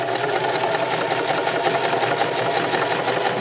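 A sewing machine runs a continuous straight stitch along the edge of a scrub cap, an even, fast mechanical whirring and ticking held close and steady throughout, with no voices.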